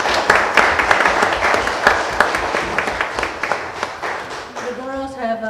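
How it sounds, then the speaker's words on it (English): Round of applause for a ladies' tournament team at a council meeting, steady clapping from a crowd that fades as a voice begins speaking near the end. "Let's give these ladies a round of applause."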